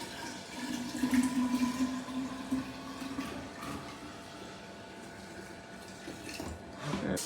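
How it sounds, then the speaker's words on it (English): Cold tap water pouring into a jug of homemade iced tea, a steady gurgling stream that gradually changes pitch as the jug fills, close and fairly quiet with no talking. "And then add enough cold water to fill it up."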